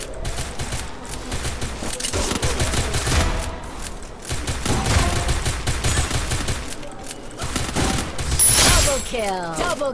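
Rapid, dense gunfire in the mobile shooter Free Fire Max, continuous bursts of shots with short gaps, loud and close, with game effects and a faint voice mixed in.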